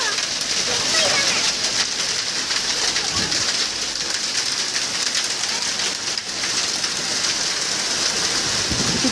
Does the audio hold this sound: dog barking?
no